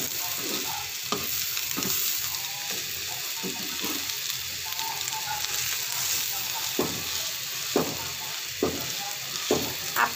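Egg frying in a pan with onion and chili, a steady close sizzle broken by repeated sharp scrapes and taps of a spatula stirring against the pan.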